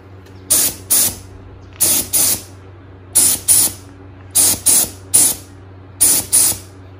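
Spray paint applied in light coats to Porsche Boxster 986 wheels: short, close hissing bursts come in quick pairs, about ten sharp sprays evenly paced over several seconds against a low steady hum.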